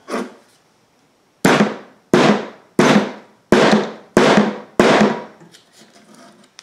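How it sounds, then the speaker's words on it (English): Hammer strikes flattening a metal washer on a 2012 Volvo XC90 blower motor connector: six sharp, evenly spaced blows, loud and close, with a short first tap and faint shuffling afterward. "let me flatten that washer out real quick"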